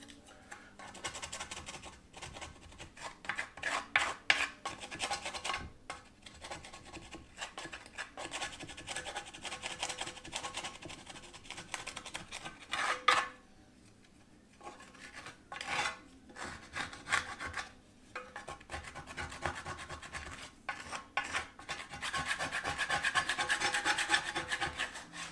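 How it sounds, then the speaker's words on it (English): Steady scraping and rasping of a tool across a cast iron pan during cleaning, a continuous gritty rub with rapid strokes and brief pauses, close and fairly loud with no talking. "I'm going to keep scraping, and fast forward."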